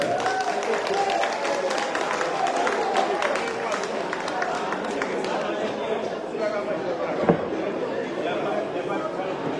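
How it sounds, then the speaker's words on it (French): Audience applause at a parish gala evening marking ten years of the Sacré-Coeur parish, a steady wash of clapping and crowd chatter filling the hall with a brief louder spike near the end. "sous vos vivants, vos applaudissements, je vous demande d'acclamer James Emmanuel"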